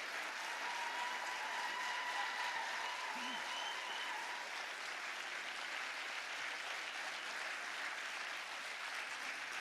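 Sustained applause from a festival audience at an evening music event, dense continuous clapping that stays loud and even throughout.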